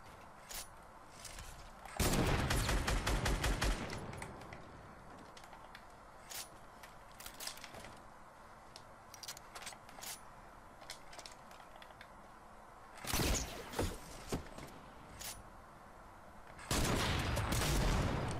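Gunfire in a combat video game: sharp single shots scattered through the stretch, with three loud dense bursts of rapid fire near the start, middle and end, fairly close and crisp.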